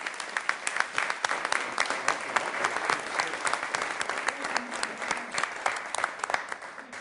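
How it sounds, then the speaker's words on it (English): A city council meeting audience gives a round of applause for a director: steady, dense clapping from many people for about seven seconds, with a few voices faintly mixed in. "how about a round of applause for our director?"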